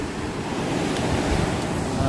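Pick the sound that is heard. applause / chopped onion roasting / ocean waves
ocean waves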